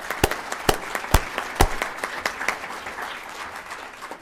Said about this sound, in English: We'll give you one more round of applause here.